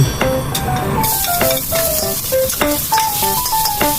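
Garlic dropped into hot oil in a pan, a loud close crackling sizzle under repeated sharp clinks of a utensil against the pan, with no talking.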